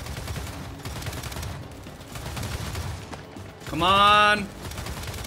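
Rapid gunfire in the Gears 5 shooter game, dense bursts crackling continuously up front with a loud sharp burst near the end while a player shouts over it.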